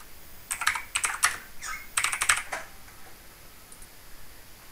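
Quick bursts of clicky keystrokes on a computer keyboard, close and crisp, in two short flurries followed by quiet.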